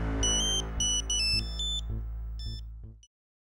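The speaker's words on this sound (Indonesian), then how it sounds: "Telepon bunyi." A telephone rings indoors in a domestic drama scene: repeated bursts of bright electronic beeping over a low, sustained music bed, cutting off abruptly after about three seconds.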